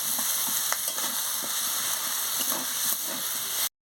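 Turmeric and chili powder masala fries in a pan with a loud, continuous hiss and sizzle and scattered spatula taps, then it cuts off abruptly near the end.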